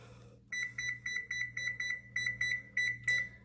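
A kitchen timer for egg muffins baking in a 375-degree oven beeps in a rapid run of about a dozen evenly spaced electronic pulses, loud and close, with a low hum underneath.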